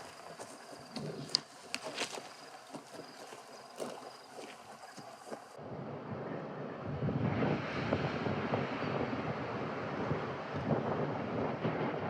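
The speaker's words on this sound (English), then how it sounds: "the endless blowing of the wind dries up the land and plays with people's nerves" Wind blows steadily across the dry Karoo, rustling and buffeting the microphone, with a rougher, fuller gust taking over about halfway through and carrying on without pause.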